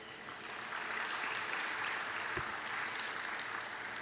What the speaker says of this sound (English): I request a big round of applause to them.